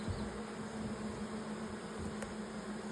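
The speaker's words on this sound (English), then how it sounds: "frame of bees without a queen could do all this" Honey bees buzz in a hive with a faint, steady, continuous hum and no pauses.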